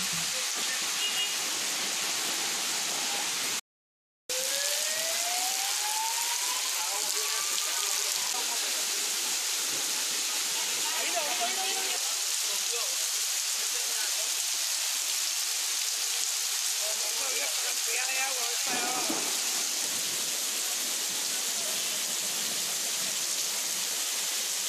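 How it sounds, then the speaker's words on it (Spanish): Steady rain pours over Havana during a downpour, a dense even hiss of falling water with a brief dropout near the start and faint distant sounds beneath. "Yo sé que no hace falta que llueva, pero llueve."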